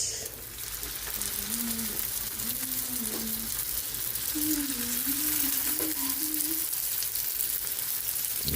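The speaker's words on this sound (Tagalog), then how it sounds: "Lumpiang Shanghai. Ayun. Salang natin yung second batch." Lumpiang Shanghai spring rolls, a second batch, sizzle and crackle steadily in hot oil, a constant close frying hiss with a faint melodic tone running underneath.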